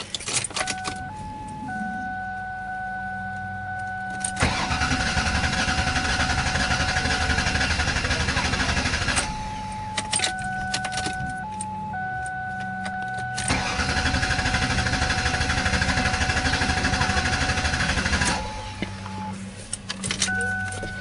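A Ford Taurus engine cranks over in two long, loud, steady bursts after a repair to the intake manifold, timing cover and oil pan gaskets, with repeating dashboard chime tones sounding between the bursts.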